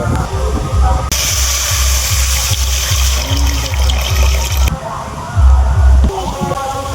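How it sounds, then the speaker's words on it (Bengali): Water pours steadily into a kadai sitting on a lit stove, a loud close rushing splash that lasts for several seconds over a low background hum, with no talking. "এখন জল দিয়ে দেবো কড়ার মধ্যে।"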